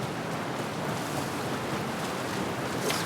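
Steady rushing water from a waterfall in the fantasy game Dragon Age: The Veilguard, a continuous broadband roar that stays loud and even throughout with no voices over it.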